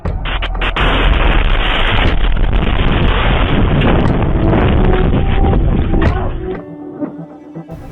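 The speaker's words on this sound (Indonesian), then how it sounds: "Serangan ini menyebabkan ledakan besar dan kebakaran." A rocket strike in a residential area of Kiryat Shmona in northern Israel, caught on CCTV, gives a loud, sustained roaring blast with rumbling booms and wind-like buffeting that cuts off near the end.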